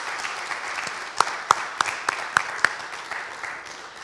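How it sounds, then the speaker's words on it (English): Applause from a poetry reading audience at the National Centre for Early Music, a steady patter of clapping with a few sharp, close individual claps standing out midway. "Can we hear and see your applause again for Elmine?"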